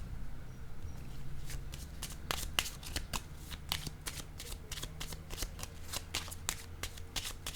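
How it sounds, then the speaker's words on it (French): Cards are shuffled, handled and laid down on a table in a tarot-style reading, giving a run of soft, crisp flicks and taps close by over a faint low hum. "Je vais déposer une autre carte ici."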